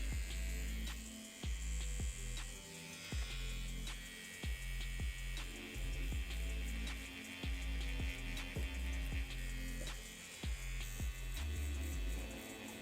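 An InkIn Nowta2 tattoo machine hums with a steady electric buzz, punctuated by a regular series of sharp ticks as its voltage is varied, close and continuous with no talk.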